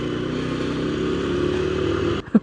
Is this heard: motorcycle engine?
yes